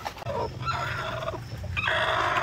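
Black Australorp and White Leghorn laying hens cluck and call in a farm coop, with several drawn-out, wavering vocalizations close by over a steady background murmur.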